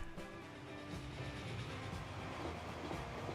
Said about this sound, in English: there is the second train